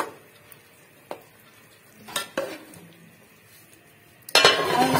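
Rice cooking with jaggery and milk in a pot is stirred with a utensil, making scraping and clinking against the pot in separate bursts. A louder, sustained stir and faint sizzle come at the end.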